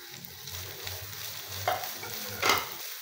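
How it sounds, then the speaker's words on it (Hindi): Sliced carrot, cabbage and capsicum stir-fry in a pan with a soft, steady sizzle, broken by a couple of brief scraping stirs, close and moderately quiet with no talking. "एक मिनट के लिए इसको ऐसे अच्छी तरह से भूनेंगे"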